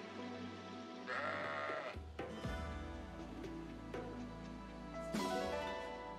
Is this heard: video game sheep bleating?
yes